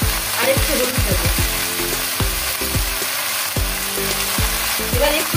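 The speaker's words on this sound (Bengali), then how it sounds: "একটু নাড়িয়ে নিচ্ছি ভালো করে, একটু মিশিয়ে দিচ্ছি আলুটার শাকটা" Jute greens and sweet potato fry loudly in a pan while being stirred, a constant sizzle broken by repeated scraping and knocking strokes of the spatula, close up and without speech.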